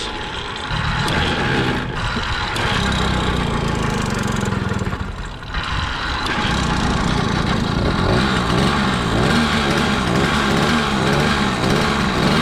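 An 80cc motorized bicycle engine runs after a carburetor cleaning, giving a loud, buzzing, uneven drone close by that dips briefly twice before steadying again.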